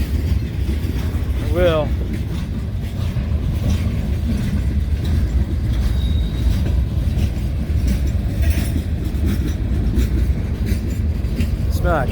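A long train rolls slowly past on the tracks in Wyoming, with a steady rumble and wheel clatter near at hand, a brief squeal, and someone talking over it.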